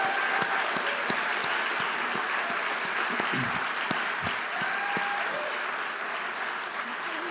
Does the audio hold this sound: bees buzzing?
no